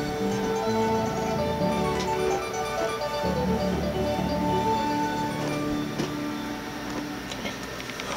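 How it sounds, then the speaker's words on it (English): Classical music from a vinyl record plays through a stereo 12AX7 tube phono preamp, sounding faint and distant in the background of a room with a soft steady hum underneath. "I don't know if you can hear the record playing in the background."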